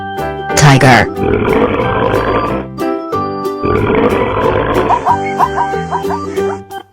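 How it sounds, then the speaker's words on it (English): A tiger growls in loud, throaty rumbles, two long growls with short breaks, set against background music. "Tiger."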